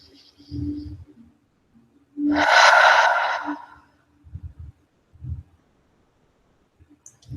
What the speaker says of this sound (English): Let's finish with an inhale through the nose and an exhale out the mouth.